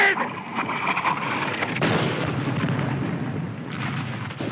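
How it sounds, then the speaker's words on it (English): Heavy artillery fire booms in a WWII battle scene, a continuous roar of blasts and rumbling impacts with shouted voices mixed in. "Where's that Jap artillery?"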